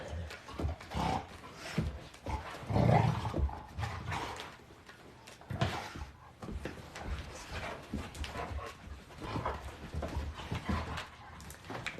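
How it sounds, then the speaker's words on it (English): Big dogs moving about a room, with panting, low whimpers and scrabbling paws loud and close, no speech over them. "I've got a couple dogs here, big dogs that are being a bit of a distraction right now"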